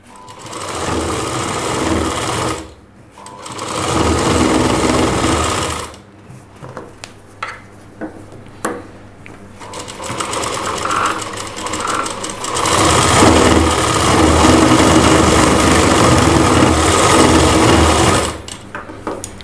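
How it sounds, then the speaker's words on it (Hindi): Sewing machine stitching seams on a Rajputi suit kanchli blouse, running in loud sustained bursts with a couple of short pauses and stop-start moments between runs. "अब हमें इसके ऊपर की साइड में सिलाई लगा देते हैं।"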